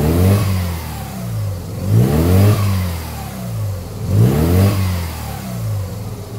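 A Mazda RX-7 FC rotary engine, naturally aspirated, revving repeatedly in a garage during a coolant system overhaul: loud, close blips that rise and fall about every two seconds, with a buzzy rotary tone and no talking.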